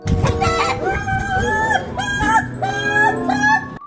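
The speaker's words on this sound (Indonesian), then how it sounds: "Lah, kok bunyi sih ayam ah?" Chickens in a coop cluck and a rooster crows repeatedly, loud and close, with overlapping calls rising and falling across the stretch.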